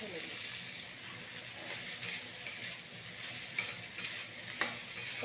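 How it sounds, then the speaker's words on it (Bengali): Squeezed banana stem tipped into spices frying in a pan, a continuous close hiss of sizzling with scattered clinks and scrapes of stirring, moderately quiet throughout. "এরপরে নিচড়ে রাখা থোড়টাকে ঢেলে দিই।"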